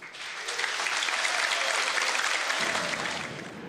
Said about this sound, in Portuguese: as pessoas se levantaram e aplaudiram ele bastante forte